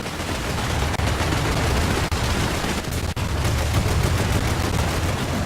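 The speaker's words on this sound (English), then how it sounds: "I'm opening up with my 76mm gun as we speak" Rapid, continuous gunfire from a 76mm tank gun and surrounding weapons in the War Thunder video game, loud and dense throughout with a few brief dips.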